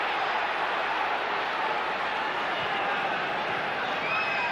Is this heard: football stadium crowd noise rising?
yes